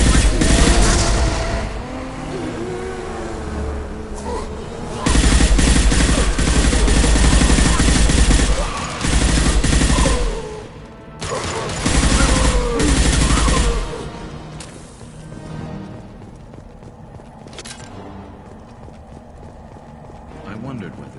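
Gunfire in a Mass Effect firefight against husks, with loud sustained bursts of automatic weapon fire and crackling shots, dense and close, broken by short lulls, with voices shouting over the fighting.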